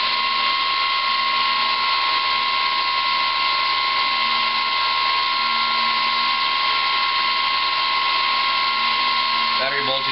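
An electric motor spins an 8x6x3 propeller on a static test stand at about 3 amps, making a steady, loud, high-pitched whirring buzz that holds constant for the whole stretch.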